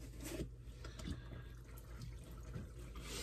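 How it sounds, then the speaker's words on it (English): Water sloshing and trickling in a basin as a Ferragamo shoe soaks, a steady close wash with soft splashes and drips throughout. "We're basically just soaking the shoe into the water, letting it absorb into the uppers."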